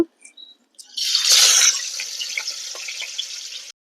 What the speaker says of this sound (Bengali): তেল গরম হয়ে গেছে এবার আমি মাছটাকে ভেজে নেব